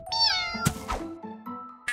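Tofu the cat meows in a video game, a few short, bright, close meows with brief thumps between them, loud and clear with no talking.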